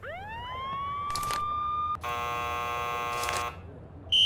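A rising synthetic siren from the Nancy Drew: The Phantom of Venice game sweeps up and holds, then cuts to a louder, buzzier sustained tone with brief bursts, ending on a sharp high beep.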